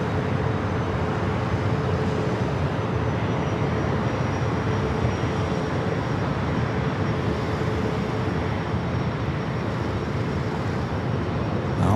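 A British Airways heavy jet departs San Diego airport for London, a steady distant engine rumble that holds evenly throughout, broad and unbroken.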